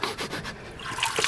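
Water gushes and dribbles from a 1997 Dodge donor truck as its 12-valve Cummins engine is pulled, a steady splashing trickle with scattered drips close by.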